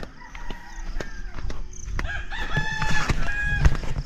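Chickens cluck and a rooster crows nearby, with scattered short calls building into a louder crow near the end.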